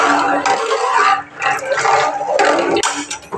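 Water pours into a pot of buttermilk curry in a close, fairly loud, splashing stream that briefly pauses midway, then resumes unevenly, with no talking.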